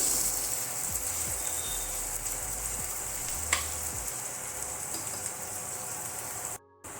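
Chopped onions frying in a cumin tempering for chana dal give off a steady, close sizzle throughout, with a few faint stirring scrapes and a brief drop near the end.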